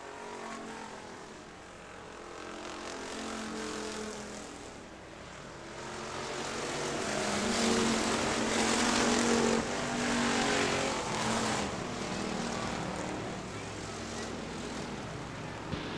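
Factory stock race cars at Hartford Speedway roar past on the oval, engine drone swelling as they approach and fading, under a commentator's voice.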